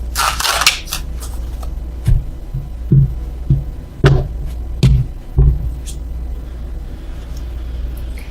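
Tarot cards being shuffled by hand, giving a few soft irregular riffling bursts and light taps at close range, with no talking.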